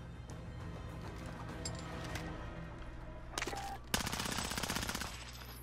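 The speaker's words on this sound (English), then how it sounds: "Getting fired from like three different directions" Rapid automatic gunfire in the battle royale shooter Warzone, coming from several directions with gas closing in, a steady rattle of shots that grows denser and louder in the final seconds.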